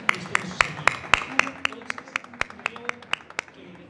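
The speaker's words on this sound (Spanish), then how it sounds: "para quien por favor pido un fuerte aplauso" Sparse, rhythmic clapping from an audience welcoming a magistrate at a book-fair panel, about a dozen distinct hand claps at a steady pace, moderately close and fairly quiet, fading toward the end.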